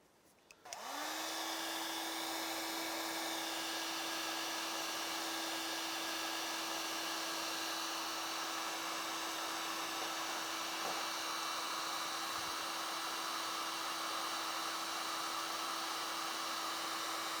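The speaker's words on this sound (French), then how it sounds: "c'est là qu'intervient le sèche-cheveux ou le décapeur thermique" A hair dryer or heat gun blows steadily on wet acrylic pouring paint, starting with a click and whir and then holding one loud continuous hum and rush of air, close by, with no talking.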